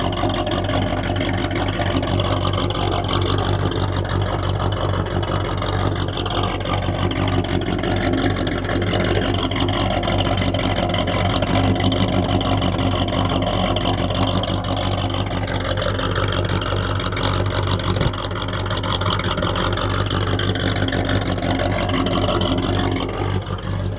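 A Ford 351 V8 fitted with Cherry Bomb M80 mufflers runs steadily. It makes a deep, loud, continuous exhaust rumble that holds a near-constant idle throughout.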